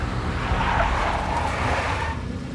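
A big black Mercedes skids, a steady loud tire-and-engine roar with a brief squeal-like rise near the middle, running continuously with no voices over it.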